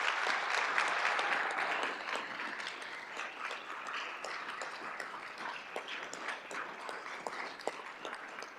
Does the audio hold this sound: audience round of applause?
yes